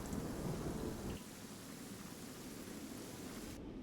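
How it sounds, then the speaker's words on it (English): In a fantasy inn scene during a tabletop role-playing game, thunder rumbles over steady rain, heavy and close at first, then settling into a sustained downpour before cutting off abruptly. "The people in the inn kind of look around as they hear the sound of thunder"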